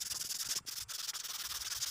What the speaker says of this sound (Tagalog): Kaya niliha ko din siya ng 150 grit na liha.